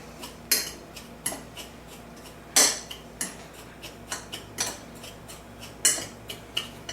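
A utensil clinks and scrapes against a bowl while mixing KC Butt Spice rub, giving sharp irregular metallic taps close by over a quiet background with no speech.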